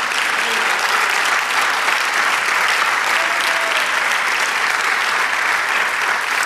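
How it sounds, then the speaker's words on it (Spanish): A church congregation claps for the Lord in loud, steady applause that fills the whole stretch without a break. "Dale el aplauso al Señor"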